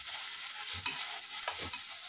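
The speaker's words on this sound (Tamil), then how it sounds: "வாழைப்பூ பார்த்திங்கன்னா நல்லா வதங்கிடுச்சு பாருங்கள்" Banana flower is stirred and sautéed in a pan for chutney: a soft, continuous sizzle with a couple of brief scraping stirs of the spatula, quiet and close, no voices.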